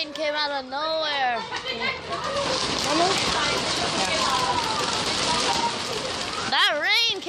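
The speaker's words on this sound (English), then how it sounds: "Whoa, that rain came out of nowhere." A sudden rain shower hisses steadily and loudly across the whole stretch, a dense patter of drops, while children talk and shout excitedly over it.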